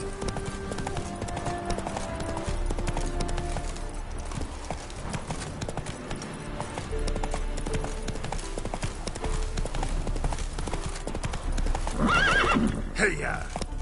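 Horse hooves clip-clop steadily in The Witcher video game, with a horse neighing loudly near the end, set against a continuous game music and ambience bed; a voice speaks briefly.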